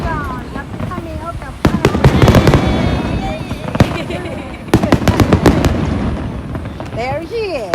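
Fireworks display at the Kameoka fireworks festival, with sharp bursts and crackling pops in clusters over a steady crowd murmur, people talking and whistling shells heard nearby.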